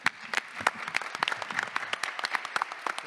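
Audience applause at an innovation day event for a Biobío city science lab, a steady patter of many hands clapping close by for about three seconds with no voices over it.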